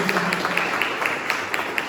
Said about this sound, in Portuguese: Aplauda o Senhor bem forte, igreja.